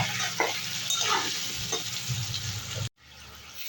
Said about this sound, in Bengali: এবার আলুগুলোও ভেজে নেব